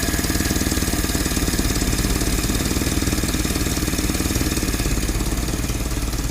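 A Ford GPW jeep engine with a Solex carburettor idles close by with a rapid, even mechanical chatter and dense, loud steady knocking throughout, and no voices.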